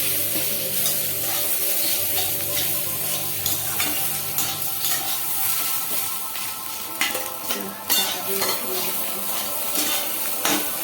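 Previously fried potato and chopped onion go into a hot frying pan with fish roe, crackling loudly while a spoon scrapes and clatters against the pan in uneven bursts.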